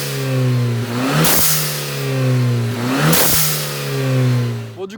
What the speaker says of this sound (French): je vais vous faire écouter un peu le dump valve